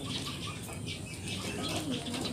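Racing pigeons flap their wings as they fly from a loft, a quick fluttering rush heard faintly against outdoor background noise for a couple of seconds.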